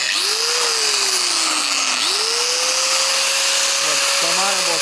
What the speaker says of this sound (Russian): Болгарка работает.